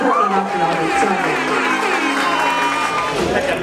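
A crowd at a modelling contest cheers and claps for the winner, a dense sustained wash of applause and shouting that stays loud and close throughout with voices mixed in.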